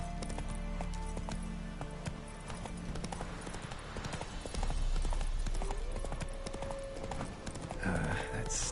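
Roach, Geralt's horse in The Witcher 3, gallops with a fast, continuous clip-clop of hooves, close and prominent, while a brief voice and some ambient game sounds rise near the end.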